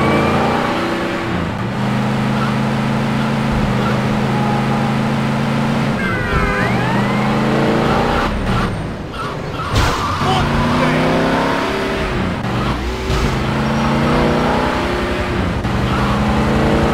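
Car driving fast in GTA Liberty City Stories, a loud continuous engine drone with pitch sweeps as it revs and shifts, plus occasional thumps, with speech over parts of it.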